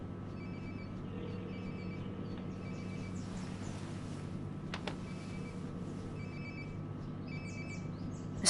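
A phone ringing nearby in the Life is Strange video game, with repeated short trilling rings spread across the stretch over a steady hum of background game ambience and no speech.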